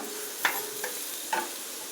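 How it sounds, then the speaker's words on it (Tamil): Grated bottle gourd sautéing in oil in a pan, a soft low sizzle broken by three quick spatula stirs and scrapes, close and alone without any talking. "சொரக்காவை திருகிட்டு கொஞ்சம் எண்ணெய் விட்டு பேனில் வணக்க போகிறோம்"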